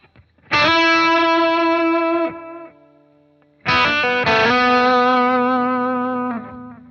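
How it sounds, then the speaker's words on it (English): Sustained, distorted electric guitar lead notes ring out in two long phrases through a delay pedal, repeating echoes trailing off, loud and close, no speech. "So it's almost like using delay as a different kind of reverb."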